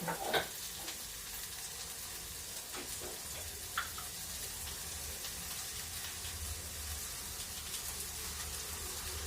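Grated carrot fries in a pan with onions, shallots and tamarind. A soft, continuous sizzle is broken by occasional stirring clinks and scrapes, with no one speaking.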